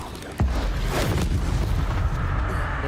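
A Confringo fire spell from Hogwarts Legacy bursts with a sudden heavy boom, followed by a rumbling, crackling roar that carries on loud to the end.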